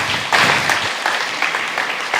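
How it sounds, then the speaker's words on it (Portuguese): A church congregation applauds, a dense, steady wash of many hands clapping at moderate volume with a few louder bursts, continuing throughout. "Vamos aplaudir o Senhor por isso?"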